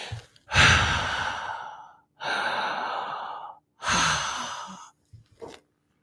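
A voice imitates loud snoring breaths, three long raspy inhales and exhales in a row, with brief pauses between, close and alone.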